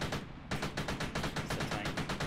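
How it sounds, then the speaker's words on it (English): Gunfire during an airsoft or milsim game event, Operation Salvation III, with a tank shooting nearby, a loud rapid burst of regular sharp reports after a brief pause, close and continuous with no talk. "Tank shooting at us."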